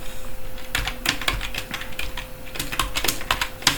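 Someone types on a computer keyboard at close range, sending irregular bursts of crisp clicks with a short pause near the middle before the typing resumes.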